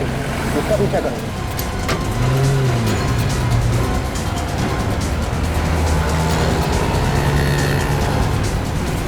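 Engine roar and sharp tire squeal from a car chase in a TV crime drama, loud and close, with a rising and falling whine around the middle and voices speaking over the continuous vehicle noise.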